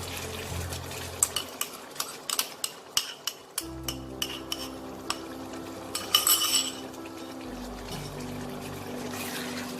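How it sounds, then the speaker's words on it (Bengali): A spoon stirring whipped yogurt into a chicken curry in a pot, a run of sharp clinks and taps against the pan followed by wet mixing and pouring sounds, no voices. "টক দইটা দিয়ে আমি ভালো করে মিশিয়ে নেব।"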